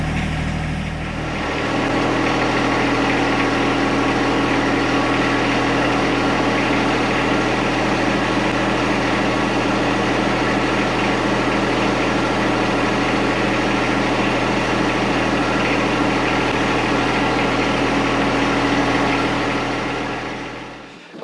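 A John Deere 2025R compact tractor engine starts and settles into a steady idle, a loud, even rumble that runs unbroken for about twenty seconds with no talking.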